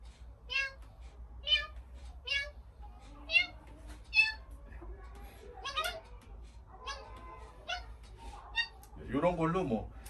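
Cartoon cat meows from an educational smart-content app for children's activities, several short bright meows spaced through the clip, with a few other chirpy app sounds near the end.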